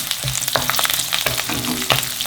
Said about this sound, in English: as soon as your oil gets hot, we're going to put the cumin seed and the coriander seed quickly